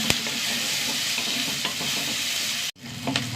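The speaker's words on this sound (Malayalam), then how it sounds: "രണ്ട് പച്ചമുളക്, സവാള ഒന്ന് വാടി വരട്ടെ." Sliced onions and two green chillies fry in a hot pan, a steady close sizzle broken by spatula stirs and scrapes, with one brief pause near the end before the frying resumes.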